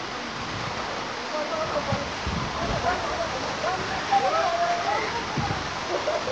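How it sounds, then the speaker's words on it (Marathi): A monsoon waterfall tumbles down in three streams at Malshej Ghat, a constant broad rushing roar with a person talking over it. "पावसाळ्यात माळशेज घाटामध्ये तुम्ही आलात तर 3 धारांमध्ये कोसळणारा धबधबा पाहण्यासाठी नक्कीच या"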